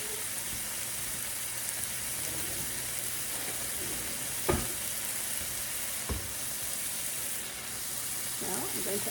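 Chicken sizzles steadily in a hot pan, a soft continuous frying hiss with a couple of sharp clinks or stirs partway through.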